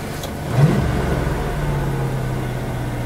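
A 1993 Chevrolet Corvette C4 with a 350 LT1 V8 on a test drive, its engine rising in a brief rev then holding a steady, loud low drone close to the listener.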